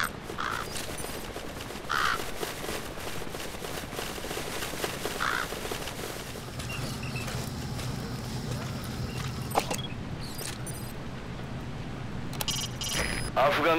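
Raven calls in the video game Metal Gear Solid V, a few harsh caws spaced apart over steady ambient game noise, with a talking voice present.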